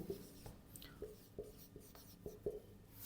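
Writing strokes on a board during a physics lecture, a series of short taps and scratches about every half second, faint and steady with no voice over them.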